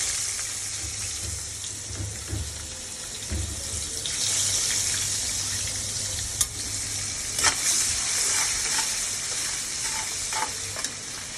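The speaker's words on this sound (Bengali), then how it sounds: "আমি প্রথমে পেঁয়াজটা ভেজে নেব" Onion frying in a pan over steady broadband sizzle, with a few stirring scrapes and clinks. It runs continuously at moderate level, with no voices.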